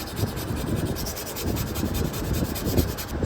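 Steel wool scrubbed over a rusty chrome bumper on a VW Beetle, continuous close coarse rubbing strokes with a steady rhythmic scratch.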